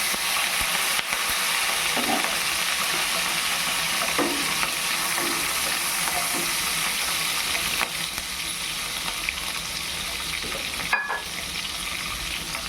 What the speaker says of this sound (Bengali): এবার আমি এই তেলের মধ্যে পেঁয়াজ আর ক্যাপসিকামটা দিয়ে দেবো